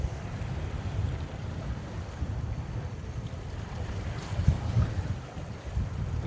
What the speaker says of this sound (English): We have wind.